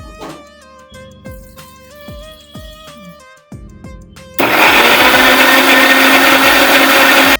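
Electric juicer starts up and whirs loudly and steadily while blending jackfruit, sugar and milk, after a stretch of quieter clinking and tapping sounds.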